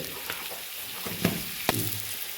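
Turmeric powder and spices sizzle in hot oil in a pan, a steady crackle broken by two brief scraping clacks of a spoon.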